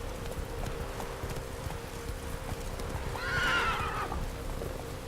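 Roach, the horse in The Witcher 3, gallops with a continuous drumming of hooves, and one loud, descending whinny rises over the hoofbeats midway through.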